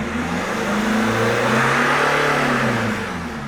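Car engine revved steadily during a diagnostic check on a vehicle that will not start, a loud, close mid-pitched rise and hold with no talk.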